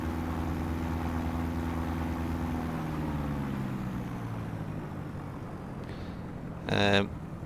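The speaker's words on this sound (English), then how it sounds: "it's amazing how much it pulls with one engine running" An aircraft in MS Flight Simulator 2024 flying on one engine, a steady droning hum with a gradually falling pitch, briefly interrupted by a short beeping chime near the end.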